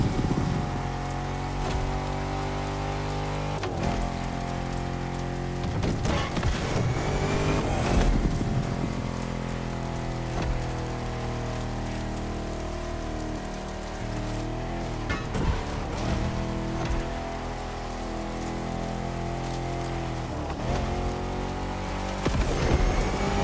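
Jeep Rubicon 392 Hemi Edition on 33-inch tires, driven in The Crew Motorfest, gives a loud continuous rumbling engine roar with shifting pitch and occasional surges, with no talk.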